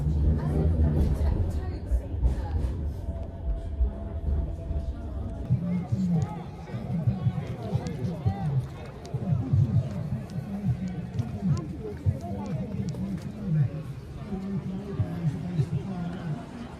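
Crowd murmur from a street gathering near Piccadilly, a dense babble of many voices with nearby talk and passing traffic rumble mixed in, continuous and fairly close throughout.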